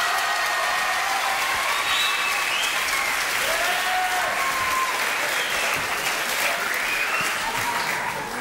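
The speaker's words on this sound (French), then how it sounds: "sous les applaudissements de la foule en délire" Sustained, dense applause from a studio audience on a French TV show, steady and loud for the full stretch, with faint voices and cheers blended underneath.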